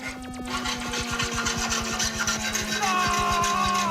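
A saw cuts through metal, rasping back and forth in a steady, quick rhythm, close and fairly loud, with a faint tonal whine running underneath.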